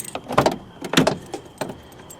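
A car door being opened: a series of close clicks, a latch clunk and short rattles in quick succession, then a few fainter knocks, no talking.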